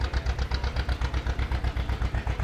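A loud tractor engine idles steadily at an outdoor gas and steam engine show, its low, even pulsing chug continuing throughout without talk.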